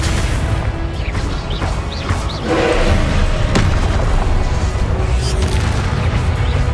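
Confringo blasting spells go off in Hogwarts Legacy on PS5, with loud booming explosions and crashing debris coming one after another over dense, continuous game noise.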